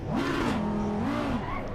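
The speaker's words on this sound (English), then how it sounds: "Still sounds the same as the previous Audi GT3." An Audi R8 GT3 race car engine revs in the racing game Assetto Corsa Competizione at Spa, its pitch rising and falling through gear changes in a steady, close-up in-car drone.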